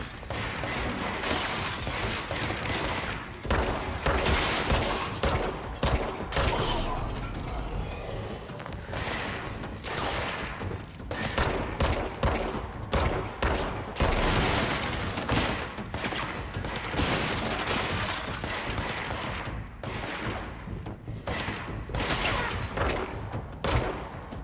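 Video game gunfire: dense, loud bursts of rapid shots and impacts continue nearly nonstop, with bits of in-game clatter and a voice occasionally speaking underneath.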